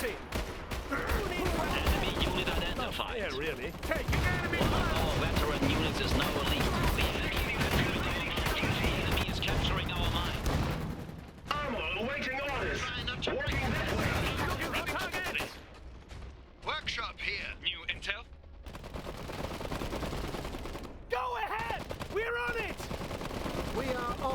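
Iron Harvest battle with dense, continuous gunfire and heavy artillery blasts rolling on at high volume for the whole stretch, with short radio-style unit voice lines breaking through the din.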